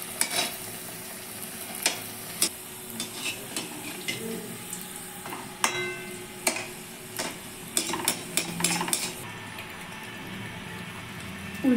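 Pea-filled kochuri frying in oil, a close sizzling hiss punctuated by repeated sharp clinks and scrapes of a utensil against the pan, irregular and bunched, with no talking.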